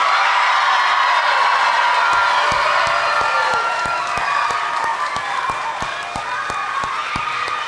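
Audience at a middle school promotion ceremony for a graduating class breaks into loud, sustained applause with cheering and whoops, a dense clapping roar filling the whole stretch.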